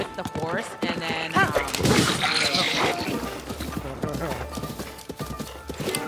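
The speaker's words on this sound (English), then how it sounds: "You can actually hit the enemies with the horse" A horse gallops into enemies in Zelda Breath of the Wild, its hooves clip-clopping with heavy thuds of impact and a whinny. People talk over the game audio the whole time.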